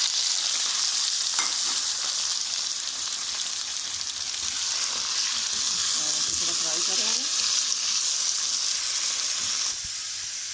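Steady, loud sizzling of chicken frying in a hot pan, with occasional stirring clatter, continuous throughout.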